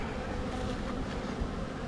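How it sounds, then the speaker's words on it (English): A dense, steady hum of many honeybees inside an open box taken from a tree, a continuous low drone that holds at an even level throughout. "It's a pretty good bit of bees, ain't it?"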